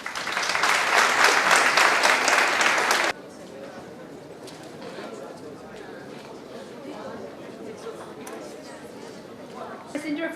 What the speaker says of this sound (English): let's cheer it up for the first presenter, who is Niharika Jitendra Bratra.